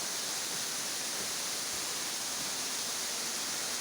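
Water rushes steadily at Güzeldere waterfall, a dense, unbroken broadband roar that stays even and close throughout with no voices.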